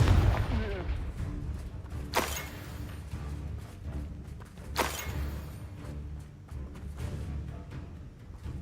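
A Confringo fire spell in the game Hogwarts Legacy, heard as two sharp explosive bursts a few seconds apart over a low rumbling game soundscape.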